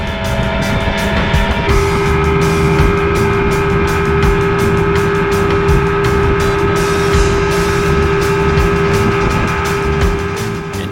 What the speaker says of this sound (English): if you like the whining of the two-stroke motors